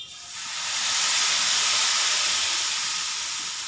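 Rava dosa batter poured onto a hot pan sizzles, a bright hiss that swells within the first second and then holds loud and steady before easing slightly, heard alone and close.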